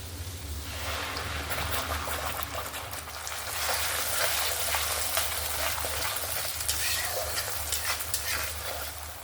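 Ground spice paste sizzles and crackles steadily in a hot pan, a dense, continuous fry with occasional stirring scrapes, close up.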